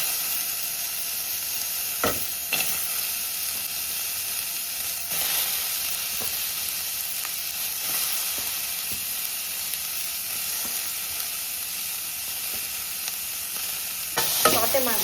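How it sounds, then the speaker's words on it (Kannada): Vegetables for upma sauté in a dry pan without oil, giving a continuous soft sizzle and hiss with occasional spatula scrapes and taps as they are stirred, close and steady, with no voices. "ಸಾಟೆ ಮಾಡ್ತಿದ್ದೀನಿ ಎಲ್ಲ ವೆಜ್ಜಿ."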